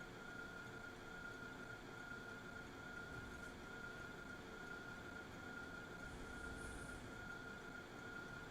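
A train rolling along its track in the video game Factorio, a steady low rumble with a faint sustained whine, continuous and even throughout with no talking.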